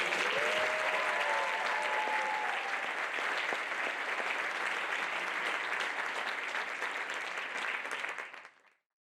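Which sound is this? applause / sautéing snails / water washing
applause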